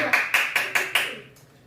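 Audience at a Buddhist dharma lecture in Geoje clapping: five quick, evenly spaced claps close together, then the sound fades to quiet.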